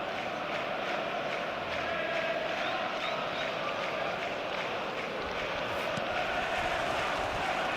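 Stadium crowd on match day in a football video game, a steady loud roar of many voices with cheering and rumbling noise, continuous throughout.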